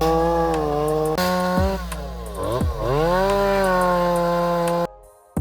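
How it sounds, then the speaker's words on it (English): A small chainsaw cutting firewood, its loud close engine whine holding steady and then dipping in pitch as the chain bites into the wood, before cutting off abruptly near the end. "Got the little steel chainsaw here, gonna cut up some firewood."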